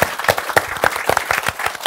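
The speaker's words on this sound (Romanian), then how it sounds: "Victor Vizitiu, aplauze pentru el." An audience claps for Victor Vizitiu on a talk show, a quick burst of close, sharp applause lasting under two seconds.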